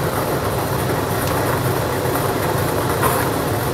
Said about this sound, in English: Let's select them into the mixing chamber and get the machine going